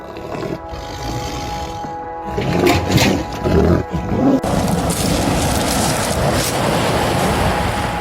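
A rare Amur tiger released into protected wilderness, with deep, rough roaring and growling bursts up close. A sustained rumbling roar rises in the middle and is followed by a steady, noisy wash of sound.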